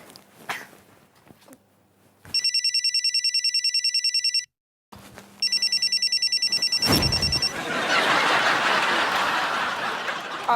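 A telephone rings in a steady electronic ring pattern in two bursts separated by a short silence. A loud rushing noise follows, with faint laughter in a domestic sitcom scene.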